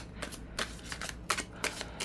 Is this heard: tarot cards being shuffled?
yes